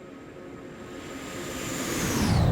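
Virtavia C-17 Globemaster jet engines in X-Plane 11, a steady broad roar that swells louder over the clip while a high whine slowly falls in pitch near the end.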